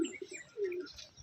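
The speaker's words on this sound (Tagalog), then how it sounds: "papatuka muna ako ng ibon" Pigeons on a sunny rooftop coo softly while being fed, a few low burbling calls close by with faint chirps above.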